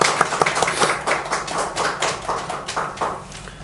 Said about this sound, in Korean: 오늘 여기 처음 오신 분들도 있는데 한번 박수로 환영하도록 하겠습니다.